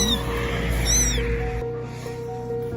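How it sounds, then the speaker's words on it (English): A small kitten gives a few thin, high, wavering meows over a steady low hum, brief and close. "heard a tiny kitten crying for help"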